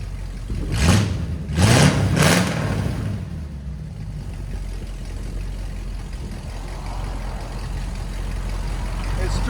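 A 1962 Buick LeSabre with a 401 V8 and glass pack mufflers revs three times in quick, loud bursts, then settles into a rumbling idle that runs steadily under light talk.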